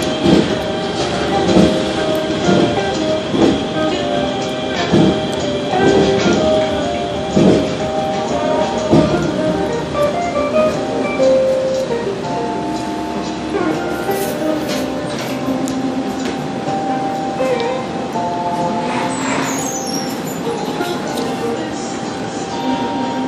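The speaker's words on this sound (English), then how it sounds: "Christmas trolley" A Philadelphia Route 15 Christmas trolley rumbles along its rails, loud and close, with steady clickety-clack wheel beats and metallic squeals over a continuous rolling drone.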